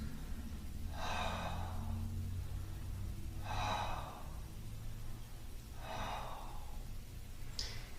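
Three slow, deep breaths during a yoga shoulder stretch, each a soft airy exhale spaced about two and a half seconds apart, close and quiet over faint background hum.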